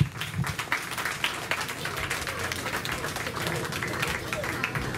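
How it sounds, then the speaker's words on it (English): Applause from the audience at a county fair show, a moderately loud patter of clapping hands that stays fairly even, with voices mixed in underneath. "Let's give them a round of applause."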